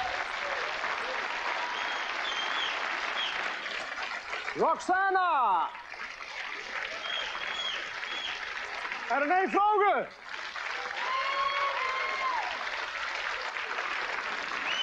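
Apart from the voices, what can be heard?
audience applause in a Dutch TV show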